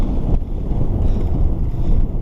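Strong wind buffets a microphone during a bike ride through town, a continuous heavy low rumble with gusty swells and no speech.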